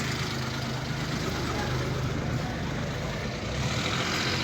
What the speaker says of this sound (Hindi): ट्रैक्टर है